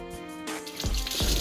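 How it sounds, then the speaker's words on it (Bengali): Cold pump water pours and splashes as someone washes their hands and feet, a close, irregular gush that swells louder after a brief quieter start. "তাই এসে আগে হাত পাগুলো ধুয়ে নিচ্ছি। মোটরের ঠান্ডা জল ছিল তো"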